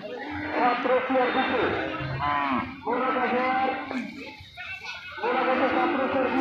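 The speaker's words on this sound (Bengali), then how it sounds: "দেখতে পাচ্ছেন এগুলো বর্ডারের গরু" Cattle low and moo repeatedly in a busy cattle market crowd, close and loud, with people talking throughout.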